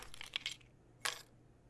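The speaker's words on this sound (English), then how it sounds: "If you have to go, here's your keys" Keys handed over with a short metallic jingle, two quick clinks followed by a brighter rattle a moment later, close and alone.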